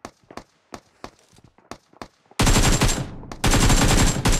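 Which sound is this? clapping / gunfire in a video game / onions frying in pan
gunfire in a video game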